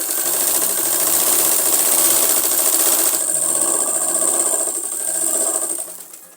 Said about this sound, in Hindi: इसी के अकॉर्डिंग हमने दूसरी साइड को भी सिलाई लगानी है